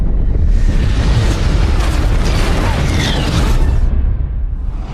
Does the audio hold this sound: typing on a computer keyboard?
no